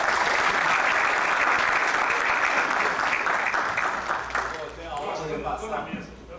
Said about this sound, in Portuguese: que nós saudássemos com a salva de palmas aqui